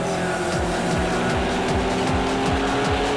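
GT3 race cars in Project CARS 2 during an online league sprint race, engines roaring loudly with repeated rising gear-change sweeps and tire squeal, continuous and close.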